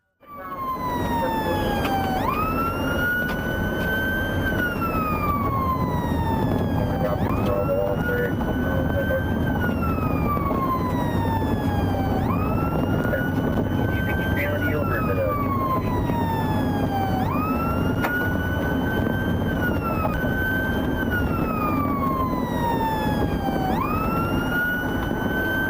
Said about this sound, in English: The sergeant activated his emergency lights and siren to signal the driver to pull over